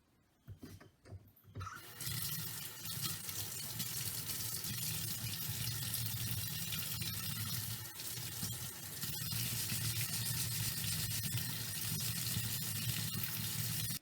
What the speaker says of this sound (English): Same thing, I'm going to wet sand it.